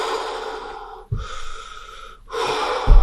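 Someone takes loud, close breaths during a bodyweight mobility exercise, with two long airy exhales and a sharp intake between them, and no talking.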